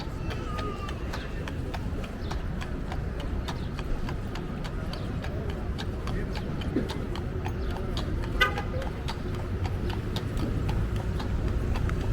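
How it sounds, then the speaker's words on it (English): Horse and carriage on a hazy June street in New York City, with steady hoof clip-clops passing through distant city traffic, a horn toot and faint voices. "Horse and carriage going by, just a daily part of my day."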